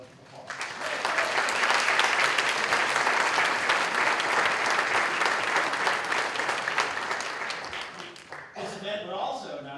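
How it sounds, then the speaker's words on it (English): An audience at an MLK Day celebration gives a full, sustained round of applause, loud and even for about eight seconds before it tapers off and a voice begins speaking. "please give them a round of applause"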